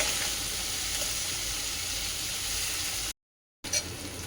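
Chopped green chili and capsicum frying lightly in a pan give a steady close sizzle, cut by a brief silent gap before the sizzling resumes with a small clatter.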